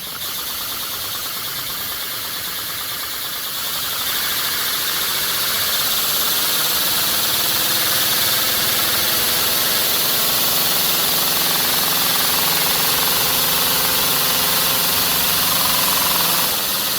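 A model inline-four engine running on compressed air at top RPM gives a steady, loud, buzzing mechanical whir that rises slightly in level after a few seconds and then holds constant.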